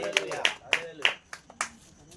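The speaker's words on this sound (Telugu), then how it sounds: "గట్టిగా చప్పట్లు కొట్టి ప్రభువును స్తుతిద్దాం" A church congregation claps in praise, several sharp hand-clap bursts in a quick uneven run followed by a few softer scattered claps, close and clear.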